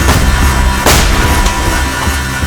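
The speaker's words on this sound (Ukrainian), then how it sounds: "Постріл!" A single sharp gunshot cracks out loud and close from a Ukrainian war film trailer, over a dense bed of cinematic music and noise.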